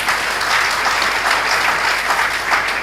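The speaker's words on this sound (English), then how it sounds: "Please, can we make the applause a bit louder than that?" Steady applause from a crowd at a Carnegie Endowment for International Peace event, dense clapping that holds at an even, fairly loud level throughout with no voices standing out.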